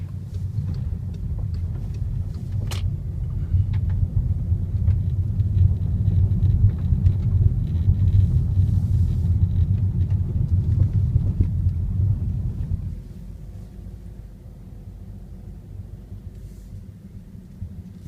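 A 2014 VW Jetta 1.8T SE on the road, a heavy low engine and road rumble heard from inside the cabin that holds steady, then drops noticeably quieter near the end.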